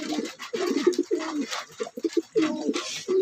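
Racing pigeons coo up close in several soft, throaty bursts with short pauses between them, and no one speaks over them.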